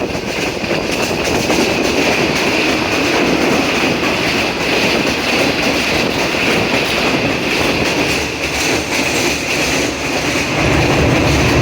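Steady, loud rumble of a train crossing the Empress Bridge, with a continuous metallic roar and rattling wheels throughout, close by and without pause.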